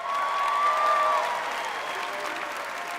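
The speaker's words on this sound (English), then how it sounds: "Give yourselves a round of applause." Audience applause at a spring graduation ceremony for a college of education and human services, a full steady clapping from a large hall crowd with a brief whistle early on.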